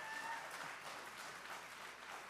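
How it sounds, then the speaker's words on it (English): Anglican church congregation applauding during a service, soft and distant clapping spread evenly through the room, steady and fairly faint throughout. "You all are clapping just because you're Anglican and you like list and order"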